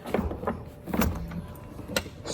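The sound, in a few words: Audi Concept C soft-closing car door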